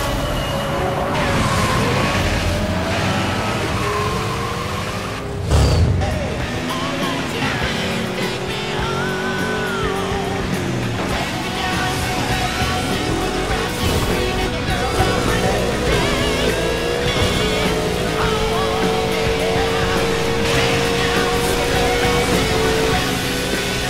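Racing cars roar through Burnout Paradise gameplay, a continuous dense wash of engine drone and road noise that holds steady for the whole stretch. A brief heavier thump or impact lands partway through.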